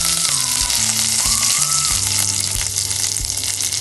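Hot ghee sizzling loudly in a pan as chopped ginger and curry leaves go in, a dense continuous frying hiss with crackling bursts and faint stirring, close and steady throughout without talk.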